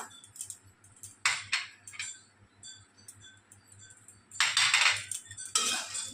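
A spoon stirring spices and salt into dry-roasted flattened rice without oil in a pan, with irregular metallic scrapes and clinks, some louder bursts of rustling scraping, over a low steady hum.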